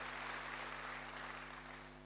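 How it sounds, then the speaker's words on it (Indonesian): A church congregation applauds during a sermon, a faint, even hiss of distant clapping under a steady electrical hum that eases slightly toward the end, with no talking. "Berikan tepuk tangan bagi Tuhan."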